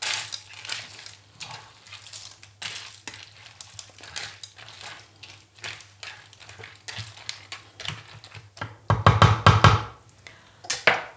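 A spoon repeatedly stirs and scrapes raw pasta mixed with pointed cabbage and carrots in a pan for a one-pot dish. The clattering rustles come in irregular bursts, close by, growing louder near the end, with no talk.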